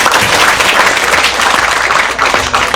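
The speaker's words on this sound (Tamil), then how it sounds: "இதுக்கெல்லாம் ஒரு கைத்தட்டு நீங்க" Loud, dense applause fills the hall at a Tamil movie audio launch, a continuous wash of many hands clapping close by with no talk.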